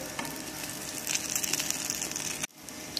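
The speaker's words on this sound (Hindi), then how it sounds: "अब इस एक एक करके हम इसमें टिक्कियाँ डाल देंगे। इस तरह से हम फ्राई कर लेंगे इसको।" Potato tikkis frying in ghee in a pan give a steady, close sizzle with crackling pops; the sound cuts off abruptly near the end, then resumes faintly.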